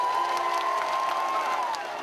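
A large rally crowd applauds and cheers to welcome a speaker, a dense wash of clapping with voices and a sustained tone over it, steady and loud throughout the short stretch.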